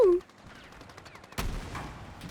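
Gunfire and a heavy blast in the shooter game Battlefield 6, a sharp loud report followed by scattered distant shots after a brief opening sound.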